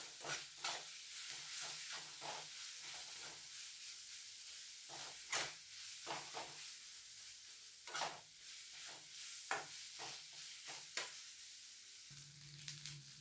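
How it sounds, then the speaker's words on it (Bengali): Fish curry masala sautéing in oil with Kashmiri chili powder for a bhangan fish tel jhal, a steady bright sizzle broken by repeated sharp scrapes and taps of a stirring spoon against the pan. "এর মশলাটাকে ভালোভাবে কষাতে হবে।"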